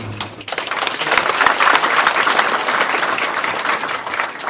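A church congregation at a Yoido Full Gospel Church business mission meeting applauds, a dense, loud wall of many hands clapping that swells after a brief start and holds steadily throughout.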